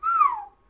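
A person imitates a wolf whistle with one short, clear, close whistle that glides up slightly and then swoops down in pitch, loud and on its own.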